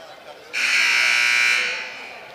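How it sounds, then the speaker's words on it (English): A loud, sustained electronic buzzer blares in a high school basketball gym, starting abruptly and holding steady for over a second before tapering off, with faint crowd noise underneath. "Buzzer will sound."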